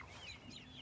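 Cornish cross chickens in a field coop let out a short, faint clucking call, heard alone and brief.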